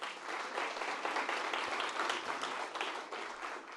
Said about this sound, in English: So round of applause for Miguel.